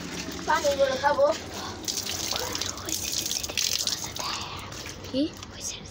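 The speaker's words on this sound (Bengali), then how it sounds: "ছাগলের গায়ে পানি দিব।" Water splashes and gushes over a goat in uneven bursts, close by, with people talking throughout.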